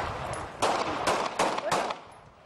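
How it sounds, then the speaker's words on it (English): In a Taliban propaganda film, several sharp gunshots crack out in quick succession in the street, each a loud burst with a short tail, followed by quieter background. "A man accused of burglary is very publicly shot dead in the street."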